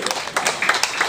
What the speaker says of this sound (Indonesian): Tepuk tangan dari Cipayung.